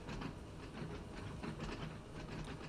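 A train runs in Train Sim World 2 on Xbox Series S, a faint, steady rolling rumble with soft rhythmic clatter throughout.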